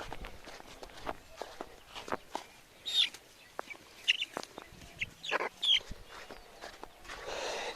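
Native village chickens give a few brief clucks nearby, mixed with scattered footsteps on the ground in a quiet rural setting.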